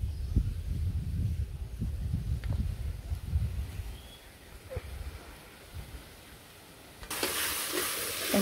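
Spice paste (masala) for a chicken dish frying in a pan, with soft sizzling and stirring scrapes, fairly quiet, fading toward a lull before a brighter hiss returns at the end.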